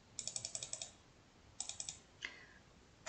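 Typing on a computer keyboard in two short bursts of quick clicks, then a single louder tap, faint and close with quiet gaps between.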